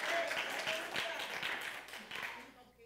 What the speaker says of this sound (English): Give God a clap offering for that.